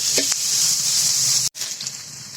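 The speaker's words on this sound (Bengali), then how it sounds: "খুন্তিতে সুন্দর করে ভেজে নিই পেঁয়াজ রসুনের কাঁচা ভাতটা চলে যাবে" Onion and garlic frying in a pan and stirred with a spatula, giving a steady, loud, close sizzle with a few scraping strokes and a brief break near the end.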